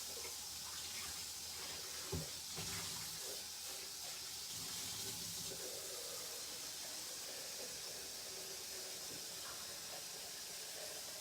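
Clean water runs steadily from a tap, a continuous broadband hiss with a brief clunk near the start, then a lower-level flow persisting to the end with no talk.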